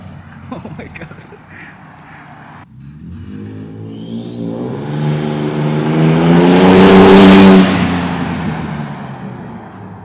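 A 2022+ Toyota Tundra pickup with a Carven cat-back exhaust revving, engine note climbing to a loud, rising roar before falling away, with wastegate chatter; voices are heard faintly at the start.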